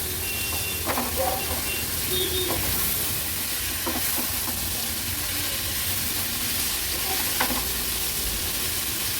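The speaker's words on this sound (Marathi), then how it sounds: "हे बघा मसाल्यांमध्ये घेवडा व्यवस्थित आपण मिक्स करून घेतलाय" Hyacinth beans are stirred through frying masala in a pan, making a constant loud sizzle with intermittent scraping strokes of the spoon and no voices.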